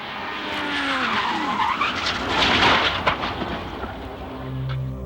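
Race car losing rear tire grip, the tires skidding and the car sliding loose into a spin; a loud, sustained screech with shifting pitch over roaring engine noise, no talk.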